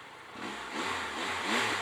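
A 2018 Triumph Tiger 1200 XCa motorcycle engine and exhaust run close by at a steady, moderate level, swelling slightly in a few gentle rises, with no voices.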